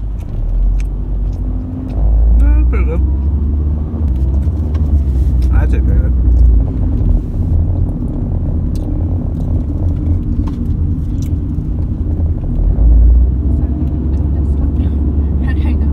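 Steady low rumble of a car interior while driving, with road and engine noise throughout and people talking over it.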